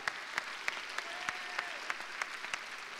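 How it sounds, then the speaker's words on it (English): A small seated audience at a documentary awards presentation claps steadily and faintly, with regular sharp individual claps standing out above a soft wash of hands, with no voices. "give them a big round of applause"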